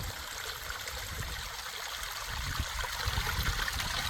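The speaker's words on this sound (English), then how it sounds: "here's a beautiful little temporary waterfall" Water from a small temporary waterfall after rain on a desert trail in Calico Basin, Nevada, rushes and trickles in a steady, even wash, close by with no voices.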